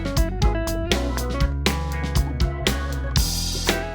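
Drumless band track playing back with a steady click track ticking throughout, guitars and bass sustaining full and loud with regular accents and no live drums.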